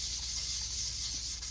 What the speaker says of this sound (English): I'm taking some 220. I put a little WD-40 on it, and again, back to hand sanding in the figure 8